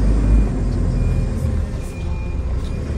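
A loaded apple truck being shifted to another parking spot after loading in Kashmir, its heavy engine giving a steady, close low rumble throughout with no talk.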